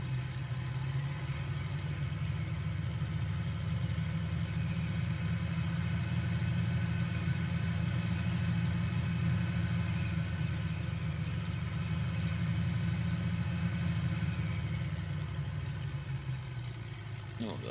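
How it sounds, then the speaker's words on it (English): A throaty early piston aircraft engine of a Bréguet XIV in Microsoft Flight Simulator drones at a steady, unchanging pitch, running continuously and fairly close without pauses. "the engine sounds like an early engine."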